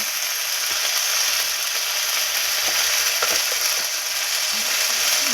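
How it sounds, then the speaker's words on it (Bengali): Ground spices such as cumin, turmeric and coriander sizzling steadily in a pan while being cooked down for a Bengali Malabar spinach and fish dish, a constant close frying hiss with a few light stirring clicks and no talk. "এই যে মশলা ভালো করে কষে গেছে"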